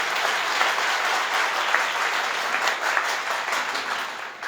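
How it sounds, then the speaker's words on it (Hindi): An audience at a network marketing business seminar bursts into loud, sustained applause, dense clapping filling the whole stretch with no voices over it. "एक बार जबरदस्त ताली बजाइए।"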